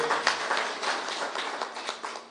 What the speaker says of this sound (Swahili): Wapi makofi ya rais pale?